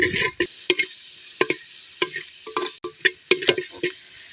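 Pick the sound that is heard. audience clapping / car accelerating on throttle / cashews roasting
cashews roasting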